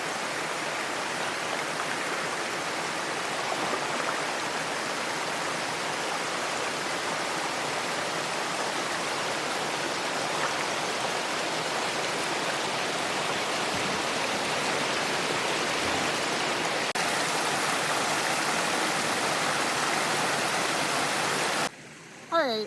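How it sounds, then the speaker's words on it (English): Rapidly running river water rushing over a large beaver dam, a dense continuous roar heard close by and steady throughout, ending with a brief knock. "rapidly running water, and I'm starting to think there's a good chance that I'm not going to be able to get through here"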